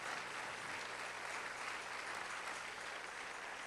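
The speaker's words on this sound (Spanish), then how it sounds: "Démele un aplauso bien fuerte al Señor Jesucristo" Congregational applause in a church service, a faint, even wash of many hands clapping together, steady without breaks for a few seconds and with no voices over it.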